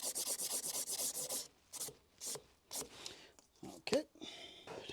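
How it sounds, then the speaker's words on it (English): An iron club head being hand-sanded with 220 grit sandpaper in shoe-shine strokes, close rhythmic rasping rubs, rapid and even at first, then slower and more irregular strokes. "220 grit sandpaper, and just shoe shine back and forth to get the paint off"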